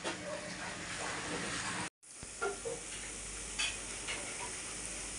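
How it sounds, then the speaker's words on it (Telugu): Eggplant masala curry fries in hot oil with a steady, close sizzle and occasional stirring scrapes. The sound drops out briefly partway through, then the frying hiss resumes. "ఇందులో వేసిన మసాలాలన్నీ పచ్చివే కదండి, అందుకని బాగానే వేయించాలి, పచ్చివాసన పోయేదాకా"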